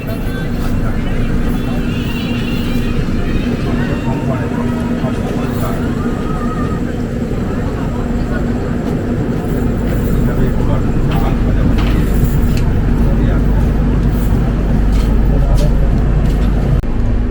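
The Mithila Express passenger train pulls out of Panagarh station, rumbling steadily on the tracks, a loud continuous low roar with faint rattling, building slightly as it gathers speed.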